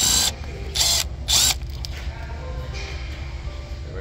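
A ratchet works loose a 10mm bolt at the high-pressure fuel pump of a Chevy Equinox, three short, loud bursts of rapid clicking near the start, followed by softer mechanical rattling with no talking.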